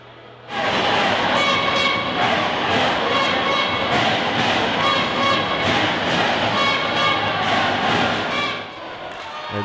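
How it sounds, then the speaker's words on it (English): Home crowd at an ice hockey game cheering loudly for its goaltender, a dense sustained roar with rhythmic shouts and thumps that swells suddenly and holds steady before easing slightly. "The home team crowd, however, takes the opportunity to show appreciation for their favourite goaltender."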